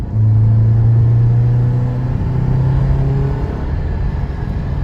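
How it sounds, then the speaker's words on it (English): Engine of a car that sounds like a Honda VTEC revving hard during an acceleration pull, a loud, steady low drone that rises in pitch and holds close up with no talking. "It kind of sounds like VTEC. You inadvertently bought a Honda."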